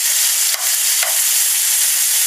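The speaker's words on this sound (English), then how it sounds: "Now, our onions are nearly done. They're starting to brown off now. And our mushrooms are starting to brown off" Onions and mushrooms browning in a frying pan give a steady, close hiss of frying, with two brief scrapes of a utensil early on and no talking.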